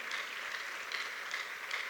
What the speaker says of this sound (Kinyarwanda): Abashyitsi dukomere Imana amashyi menshi cyane.